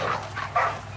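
A dog in a tropical island survival game gives a quick run of short barks and yips, three brief bursts over a low background hum.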